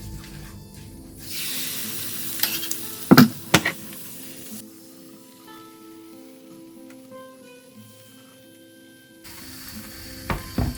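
Oil swirled in a hot frying pan gives a soft hiss and sizzle, with a few sharp clinks of the pan and a brief louder burst near the end, fairly close and without talk.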